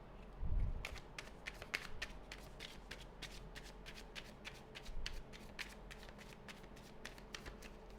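Tarot cards are shuffled up close: a quick run of soft, crisp slaps and riffles repeating steadily, fairly quiet with no talking.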